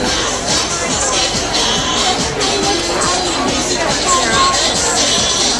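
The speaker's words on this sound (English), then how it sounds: "They're going to do their little cheer." A high school crowd at a marching band event cheers and shouts in a steady, busy din, voices blending into a continuous babble with some excited calls rising above it.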